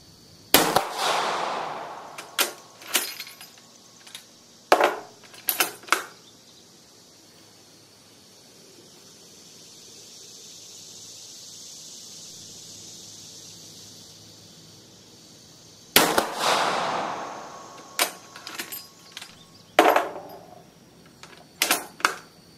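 Rifle shots from an old Italian Vetterli TS carbine, a sharp report near the start and another around the sixteen-second mark, each followed by clattering bolt and action clicks, with a long quiet stretch between.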